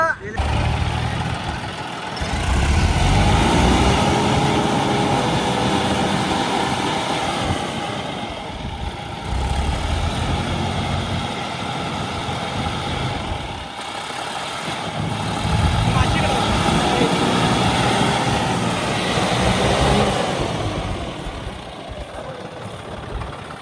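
A John Deere 5310 tractor engine labors through a tractor pull contest, a loud, continuous low drone that swells and eases across the run while voices talk throughout.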